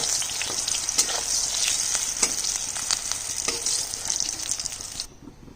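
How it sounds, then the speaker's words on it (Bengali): Fried eggplant lifted out of hot frying oil in a home kitchen, with a steady loud sizzle and a few soft scraping clinks throughout before the frying noise drops away at the end. "বেগুন ভাজা হয়ে গেছে, বেগুন ভাজাটা তুলে নিচ্ছি।"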